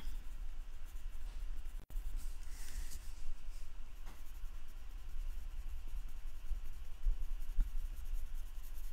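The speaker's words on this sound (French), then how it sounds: "je suis venue colorier son chapeau. Avec le rouge." A marker or pencil colours the hat of a gnome on a handmade autumn-themed card in red, a faint, steady scratchy rubbing on paper with one small tap partway through and no talking.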